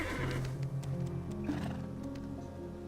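A horse in the video game Black Desert gives a loud, drawn-out whinny over a steady hum of game ambience and music, lasting about three seconds with no voices.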